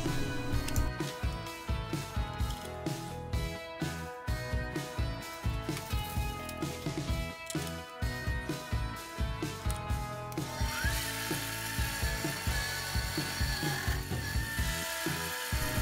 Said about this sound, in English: the build of the lathe makes it rather susceptible to vibration, as you can hear